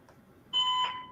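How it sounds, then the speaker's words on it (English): An electronic alarm gives a single bright tonal beep that starts partway through and holds steady, loud against a quiet room. "I'm sorry about this alarm."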